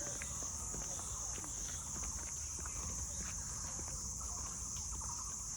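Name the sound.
crickets chirping in forest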